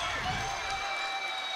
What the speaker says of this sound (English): Look at that student section going wild on that one